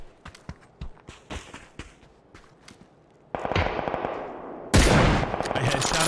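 PUBG gunfire, with scattered sharp single shots and footstep-like ticks, then two loud bursts of sustained rapid fire that dominate the end.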